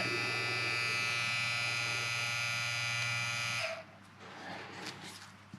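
An EZ P2S Pro wireless tattoo machine buzzes close by with a steady, high-pitched electric drone for several seconds, then stops abruptly, leaving quiet room noise and faint handling sounds.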